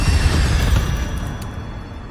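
Incendio fire spell cast in Hogwarts Legacy, a deep whooshing fiery burst that hits loud at once and then slowly fades away.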